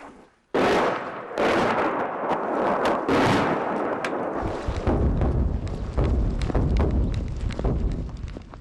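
Artillery shelling on the Eastern Front near the Donbass, a dense barrage of loud booms and blasts crowding one another, with heavy rumbling continuing throughout and no pauses between impacts.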